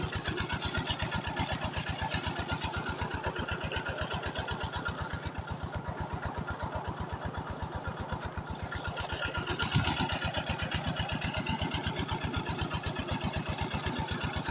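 A water pump engine runs steadily in a rice field, pumping water into the crop, with an even rapid chugging beat that stays loud and constant throughout, without talk.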